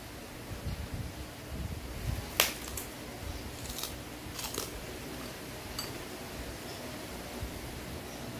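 Fried kemplang crackers bitten and chewed at a dinner in Palembang, giving a handful of sharp, crisp crunches spaced a second or so apart over a low room murmur, with no talking.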